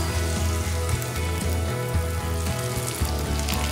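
Fried cashews and raisins hiss and crackle as they are poured into semiya payasam, a dense, steady sizzle with rhythmic bubbling and no voices.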